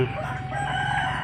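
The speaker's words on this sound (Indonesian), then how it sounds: "lagi kasih makan ayam. Banyak sekali ayamnya guys." A crowd of chickens in a village at the foot of a mountain in Indonesia crow and cluck at feeding time, a dense, overlapping chorus of calls close by with no talking.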